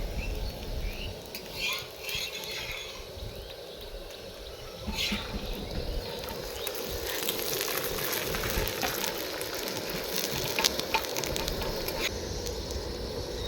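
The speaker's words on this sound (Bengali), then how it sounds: "তো আমাদের লাচ্ছা পরোটা ভাজা শুরু হয়ে গেছে।" Lachha paratha frying in a pan gives off a steady, close sizzle with bursts of crackle that grow denser after the first few seconds, with no other sound on top.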